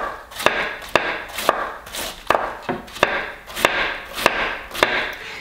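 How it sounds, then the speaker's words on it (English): A knife slices cabbage thinly on a cutting board for cortido, making a steady run of sharp, evenly spaced chops, roughly two per second, each with a short crunchy swish, close and clear with no talking. "Keep your vegetable just flat right on the surface here and keep slicing."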